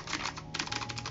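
Fast typing on a clicky computer keyboard used with an Xbox One, a rapid close stream of crisp key clicks with no voice over it.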